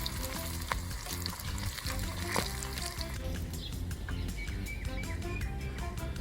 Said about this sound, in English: Oil is hot and all you have to do is fry the leaves.